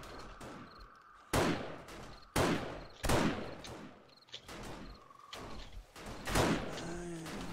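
Sniper rifle fire in 7 Days to Die, five sharp loud single shots spaced about a second apart, each with a short ringing tail, set against a quiet night ambience of crickets.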